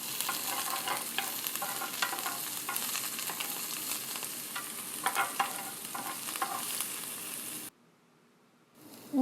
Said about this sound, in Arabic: وبالطاوة نجيب سمنة نحمس وياها كرفس مقطع وزنجبيل